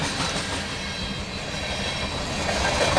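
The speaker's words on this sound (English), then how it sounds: "there was a Union Pacific locomotive on there" A freight train rolls past carrying a Union Pacific locomotive in its consist, a close, steady roar of wheels on rail with faint clickety-clack and hiss throughout, alone with no voices.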